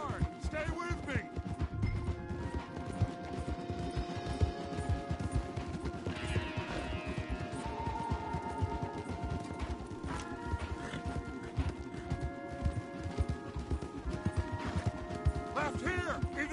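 Horses galloping hard in Red Dead Redemption 2, a rapid continuous drumming of hooves under a busy layer of music and game effects, with no pause across the stretch.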